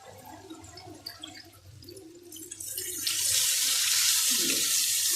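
Water pours into a cooking pot, starting as faint trickles and splashes and swelling into a steady, louder rushing stream.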